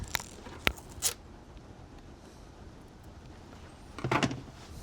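Scissors snip a few times at a workbench while guitar pickups for a Precision bass are made, sharp isolated cuts near the start and a quick cluster later, in a quiet room.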